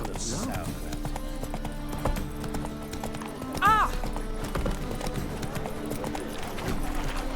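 Clip-clop of the horse Roach in The Witcher 3, a steady rhythm of hoofbeats with a brief neigh partway through, mixed with game music and background sound.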